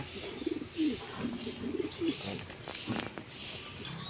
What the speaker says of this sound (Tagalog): So nangitlog yung kalapati ni Idol Kukoy.